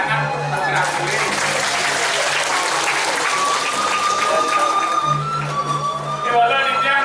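Audience applause at a Balinese drama gong stage performance, a broad, steady wash of clapping heard with crowd noise, a sustained musical tone and some voices throughout.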